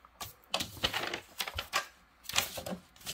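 A sublimation printer prints with fast mechanical clattering and rattling, close and continuous for a few seconds.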